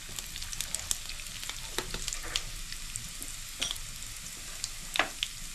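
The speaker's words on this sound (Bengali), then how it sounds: "শুকনো লঙ্কাটা ফোড়নে দিলাম, আর জিরেটা দিয়ে দিচ্ছি।" Cumin seeds, asafoetida and dried red chilli sizzle in hot oil with a soft, steady hiss broken by scattered sharp pops and crackles, fairly quiet and close.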